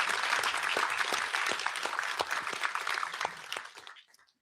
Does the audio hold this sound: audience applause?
yes